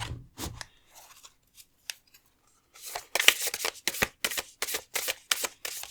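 Oracle and tarot card decks being handled and shuffled, giving close, crisp snapping and riffling bursts in a quick, uneven rhythm after a few soft taps.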